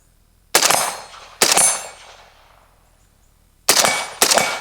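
A 5.56 RPK rifle fitted with a Sandman K suppressor fires four muffled, sharp shots: two spaced about a second apart, then a pause, then a quick pair, each with a short metallic ring.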